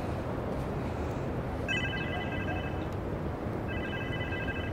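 A telephone rings twice in the video game Marvel's Spider-Man 2, each ring a bright, trilling burst of about a second over a steady, noisy background.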